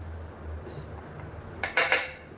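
Kattuyanam rice and green gram puttu being cut, a couple of quick clinking, scraping utensil strikes on a dish after a quiet kitchen lull.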